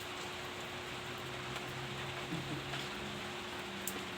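Steady rain falls on a dull wet day, a dense even patter filling the background without a break, with faint low murmurs underneath and no clear talking.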